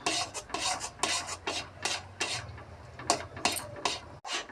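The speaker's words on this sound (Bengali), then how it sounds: "ছোলার ডাল কিন্তু খুব তলায় ধরে যায় কাজে ঘাঁটতেই থাকতে হবে" Spoon scraping and stirring thick chana dal for dhokar dalna in a pan: steady rhythmic rasping strokes, about a dozen in quick succession, close and distinct with no talk.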